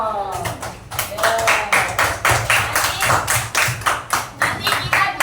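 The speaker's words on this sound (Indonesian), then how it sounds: "tepuk tangan semuanya yang sudah bisa memberikan contoh" A classroom of students claps together for classmates who gave examples, a bright, rhythmic patter of hand claps that rises and falls in loud bursts with brief voices mixed in.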